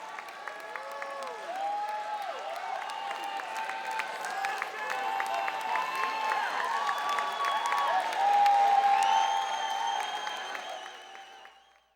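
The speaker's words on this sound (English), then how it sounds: "Let's give them a nice round of applause." An audience at the Miss Continental 2008 pageant applauds steadily for about twelve seconds, with whoops and cheers rising through the clapping before it fades out.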